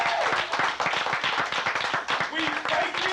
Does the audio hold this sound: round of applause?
yes